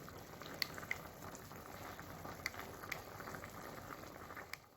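Meat stock bubbles in a pot while cooking for Cameroonian egusi melon-seed pudding, a soft steady simmering hiss with occasional small pops, quiet and close.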